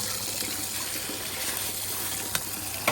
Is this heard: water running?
yes